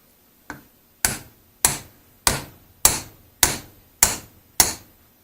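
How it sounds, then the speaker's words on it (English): Light hammer taps on a Land Rover Defender or Discovery rear wiper motor drive, eight crisp metallic knocks in an even rhythm about half a second apart, close and clear with no talk. "So we tap it very lightly"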